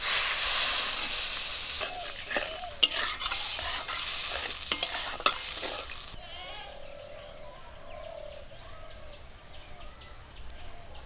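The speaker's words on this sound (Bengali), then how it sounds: "কষে নেওয়ার জন্য জল দিয়ে দেবো।" Water goes into fried spices in a pan for a fish and taro curry: vigorous stirring and scraping over a strong sizzle for several seconds, then a quieter, steady bubbling hiss.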